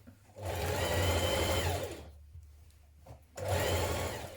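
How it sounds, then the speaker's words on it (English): A sewing machine stitches a skirt side seam in two close bursts, with a brief quiet gap of fabric handling between them. "We're going to stitch down the side seam with a 1 centimetre seam and then edge finish it."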